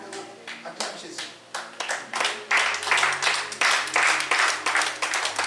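A church congregation claps and applauds to acclaim Jesus during a French-language sermon, the clapping building from scattered hands into steady, fuller applause, with voices underneath.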